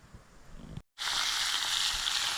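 Big slabs of eel fish sizzle in fat over an outdoor campfire, a steady close frying hiss that swells after a brief pause.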